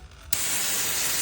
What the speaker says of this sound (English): I like to take a little bit of brake clean and just hit it